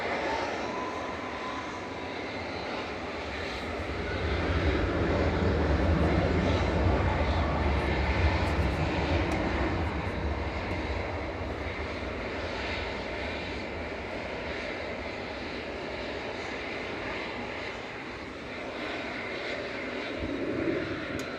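An airliner lined up for takeoff at Manchester Airport roars loudly, swelling in the middle then easing to a steady engine drone as dust gets blown across the apron, with no talking.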